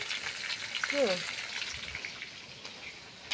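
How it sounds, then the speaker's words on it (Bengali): Food frying in a pan in a home kitchen, a soft steady sizzle running throughout, with a brief voice-like tone partway through. "আবার দেখো, আবার এখানে ভাজতেছি"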